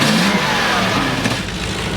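A Range Rover Classic engine runs steadily after warming up, a loud close mechanical drone with a low rumble and slightly rising pitch, no talk.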